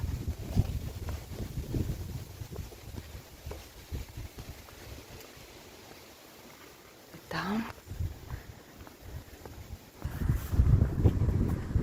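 Wind gusts buffeting the microphone outdoors on a walk through a Dutch village, a rough low rumble that eases in the middle and surges again near the end, with faint talk underneath.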